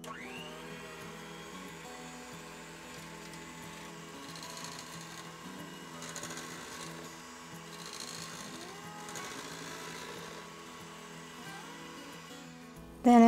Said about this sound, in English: mix that up till fully combined